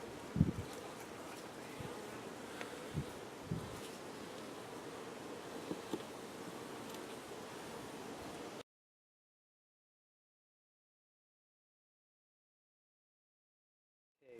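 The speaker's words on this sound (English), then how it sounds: "basically it's packed with bees." Honeybees in an opened, packed beehive during a hive check drone in a dense, steady buzz with a few nearby bumps, then silence for the rest of the clip.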